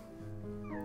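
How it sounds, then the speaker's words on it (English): A short, faint cat meow with a rising then falling pitch, heard quietly in the background of an otherwise calm room. "You might be able to hear my cat meowing in the background."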